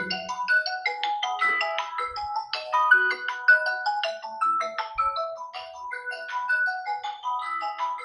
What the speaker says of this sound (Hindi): एक्चुअली फ़ोन आ गया था।